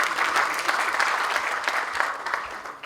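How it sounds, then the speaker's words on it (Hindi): Audience at a poetry gathering (kavi sammelan) clapping, a steady crowded patter of applause that fades slightly toward the end. "इनके लिए तालियां बजा सकते हैं"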